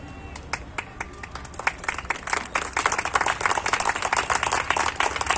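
An audience at a river rights gathering breaks into clapping, starting with scattered claps and swelling into dense, loud applause that keeps building to the end.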